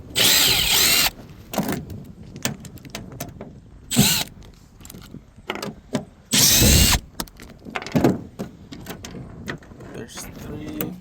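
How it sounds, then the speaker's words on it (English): Power tool spinning out bolts behind a 2014 Silverado backup camera, several loud bursts of whirring separated by clicks, rattles and handling noise, with someone talking in between. "first you gotta take these bolts off to get to the back of the camera"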